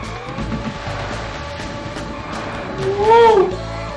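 A car drifting in the Out Run 2006 arcade racing game on PS2, a steady engine drone with a short, rising tire squeal near the end.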